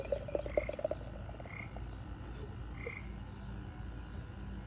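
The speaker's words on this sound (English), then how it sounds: "Got a little tree frog over there making some noise." Small tree frog croaking outdoors, a few faint chirping calls spaced apart over a soft low background hum, distant and quiet.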